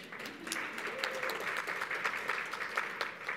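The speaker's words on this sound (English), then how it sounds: "round of applause for Matt." An audience at an academic conference gives a round of applause, moderately loud with distinct individual claps across a few seconds, and no talking over it.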